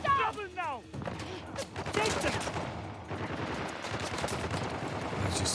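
Rapid gunfire crackles in the Uncharted: The Lost Legacy video game, several enemies shooting in bursts, loud and dense, with someone talking over the shots.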